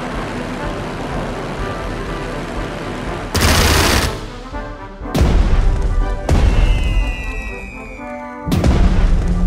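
Heavy explosions and gunfire during a bombing run in the Strategic Mind WWII strategy game, Tunisian campaign: a steady din of firing broken by several loud booming blasts at intervals.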